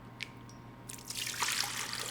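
Bone broth poured into a Vitamix blender, a few faint drips at first and then a steady, gurgling pour that grows louder toward the end.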